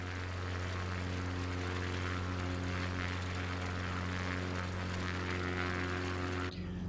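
Propeller airplane engine in Microsoft Flight Simulator, flying a bush trip in Alaska, droning steadily with a strong tonal hum, close and loud, cutting off abruptly at the end.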